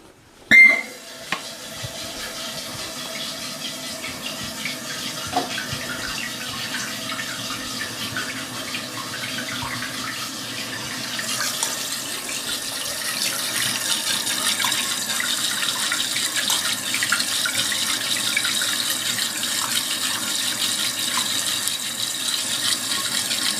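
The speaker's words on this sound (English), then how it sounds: "go ahead and turn the water back on." Water refilling the tank of a newly installed toilet after the supply is turned back on: after a short click, a steady hiss of running water builds partway through and continues loudly to the end.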